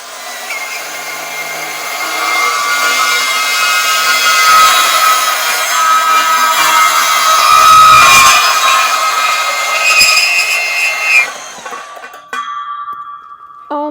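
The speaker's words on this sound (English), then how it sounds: "we're going to use this metal cutting bandsaw so it won't be flinging sparks" A metal cutting bandsaw slices through a steel post with a loud, steady grinding whine that builds to a peak midway, then stops abruptly, leaving a brief quiet tail.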